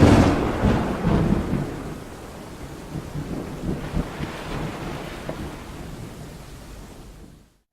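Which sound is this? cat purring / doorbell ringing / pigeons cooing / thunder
thunder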